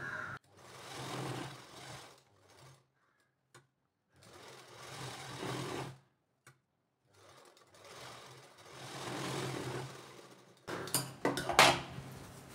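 A sewing machine runs a double line of stitches along a Gudhi saree in several bursts of steady whirring, a few seconds each, separated by pauses, close by and with no talking.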